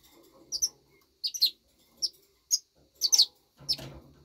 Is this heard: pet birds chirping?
yes